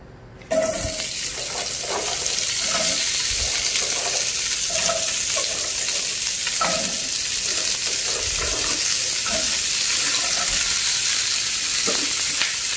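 Chopped vegetables frying in olive oil in a stockpot for brown stock, a steady loud sizzle running throughout with occasional stirring scrapes and clinks.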